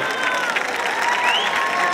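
An audience claps to welcome a women's Govinda troupe from Alibag, producing a fairly faint, steady patter of applause with crowd murmur throughout.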